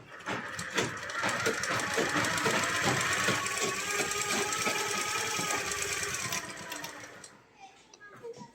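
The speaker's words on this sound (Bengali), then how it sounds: "উপরে চাপ সেলাই দিয়ে নেবে।" A sewing machine runs steadily for about seven seconds, top-stitching along a churidar neckline, with a dense mechanical whir and rhythmic needle clatter before it stops; a voice speaks faintly underneath.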